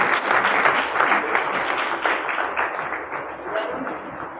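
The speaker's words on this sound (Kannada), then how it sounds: "ಅವ್ರು ಚಪ್ಪಾಳೆ ಹೇಳಿ" An audience at a student music performance by a Bagalkot music school applauds steadily throughout, dense continuous clapping at close range that tapers slightly toward the end.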